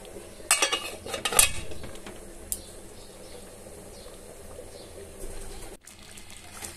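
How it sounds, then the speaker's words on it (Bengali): Chicken curry being stirred in a pot, a few sharp spoon-against-metal clinks and scrapes early, then a quieter wet bubbling and stirring, no voices. "খুব ভালো করে নাড়তে লাগবে, তারপর আমি ঢেকে দিব 10 মিনিটের জন্য।"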